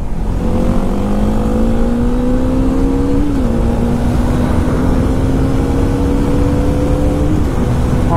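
Motorcycles, a GT650, a Duke BS3, a Dominar 400 and an Apache 310RR, run hard in third gear during a Sunday drag race, giving a loud continuous engine drone whose pitch climbs steadily with a brief dip mid-way, heard close with heavy rumble.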